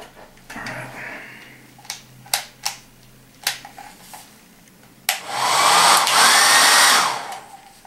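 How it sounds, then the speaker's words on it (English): A handheld blow dryer starts with a steady, loud whooshing roar after a run of sharp clicks and taps, used on an Xbox console being modded to loosen its heat shield. "blow dryer time."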